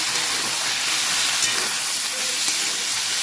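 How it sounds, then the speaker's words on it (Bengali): Ginger and green chilli paste sizzles in a pan as it is sautéed, a steady, close hiss that stays even throughout with no pauses and no talking. "আদা আর কাঁচা লঙ্কা বাটাটা দিয়ে এবার কষে নিই।"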